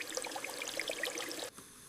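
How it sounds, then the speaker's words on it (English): Water running from a bathroom tap, a steady broadband splashing stream that cuts off abruptly near the end, leaving only a faint hiss. "I turn on the water"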